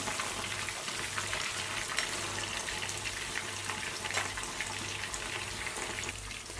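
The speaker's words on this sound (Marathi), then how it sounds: "या पीसला छान असं गोल्डन कलर येईपर्यंत याला फ्राय करायचं आहे" Chicken pieces deep frying in hot oil over a low flame, a dense, even bubbling hiss that holds steady throughout with a low hum underneath, no one speaking.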